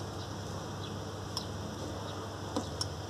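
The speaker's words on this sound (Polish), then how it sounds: "Słychać, jak przełącznik przeskakuje" The switch of a Mastercook MF-195 AN electric oven that stays cold, snapping over in a few faint, sharp clicks spaced apart against a quiet kitchen hum.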